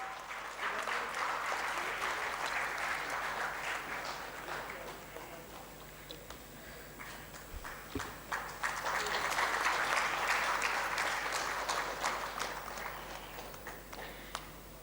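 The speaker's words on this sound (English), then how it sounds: "Let's have a big round of applause." Audience applause at an industry-academia conclave valedictory session, sustained clapping from a crowd across the whole stretch, swelling again in the second half, with faint voices mixed in.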